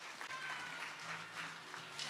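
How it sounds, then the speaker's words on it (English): Audience applause at a cooking demonstration stage during a mushroom-themed culinary event, a soft, steady wash of clapping that stays fairly faint and distant throughout. "Another round of applause for Tina Eller and Chef Pat Combs."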